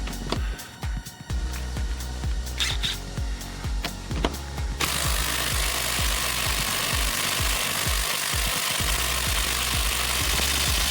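A DeWalt impact wrench hammers on a stuck bolt it fails to break loose, firing rapid, loud, sharp rattling blows for several seconds before shifting into a denser, continuous roar of impacts close by.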